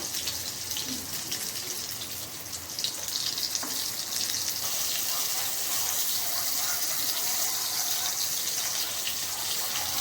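Food frying on its second side in a pan of oil, a continuous dense hiss and sizzle that holds steady and swells slightly partway through, close-up, with no talking.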